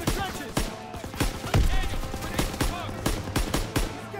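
Machine gun fire and scattered gunshots crackle in a Call of Duty WWII trench battle at Hill 493, with repeated sharp bursts over a dense, noisy battlefield backdrop and voices shouting amid the chaos.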